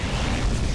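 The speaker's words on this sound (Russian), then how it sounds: "Вот это эпический взрыв, мне так нравится." A loud, dense bomb blast booms in Garry's Mod, a brief roaring rumble filling the whole moment.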